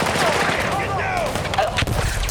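Dense, loud gunfire in the Battlefield 6 night raid fills a brief burst, a roaring wash of shots and blasts with a voice shouting underneath.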